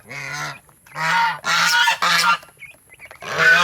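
A goose honks loudly and close, four or five harsh nasal calls in quick succession with short gaps between them.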